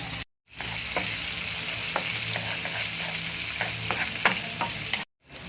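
Ginger, garlic and white onion fry steadily in a hot pan, giving a continuous close sizzle with scattered crackles and pops, broken by two brief silent gaps near the start and end.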